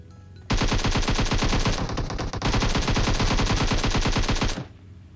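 Automatic gunfire in PUBG Mobile, shooting down an enemy. Two long, loud, rapid bursts of shots come one after the other with a brief break between them, close and alone.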